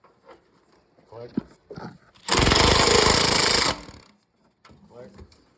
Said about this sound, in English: That's the sound of my torque wrench there.